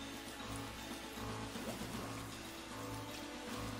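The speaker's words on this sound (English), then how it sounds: "Oh my god, it is raining." Rain in the Pokemon Shield video game, a soft steady patter of raindrops on surfaces, faint and continuous throughout.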